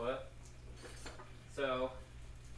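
A metal spatula scraping and clinking against a pan while salmon cooks, two short ringing metallic clanks separated by a quieter scrape, close by in a kitchen.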